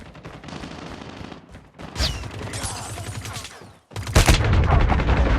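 Gunfire in the mobile shooter game Call of Duty Mobile: rapid automatic bursts sound close and loud. A brief pause comes before a heavier, louder barrage resumes.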